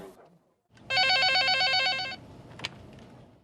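A telephone rings with a single rapid trilling electronic burst lasting just over a second, loud and close, followed by a sharp click, on a Taiwanese news report about scam calls.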